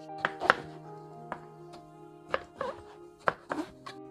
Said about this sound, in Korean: 조금 큰 듯 길쭉하게 잘라주세요